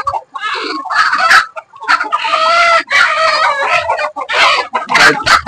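On a farm, chickens cluck loudly and close by in repeated bursts, with a rooster crowing among them over the whole stretch and a busy, overlapping flock.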